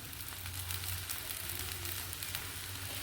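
Sabudana and bhagar batter fries in a little oil on a hot pan for an Ekadashi dosa, giving a steady, close crackling sizzle that stays even throughout with no talking.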